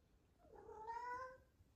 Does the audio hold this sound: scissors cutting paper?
no